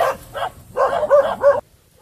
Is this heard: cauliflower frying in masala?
no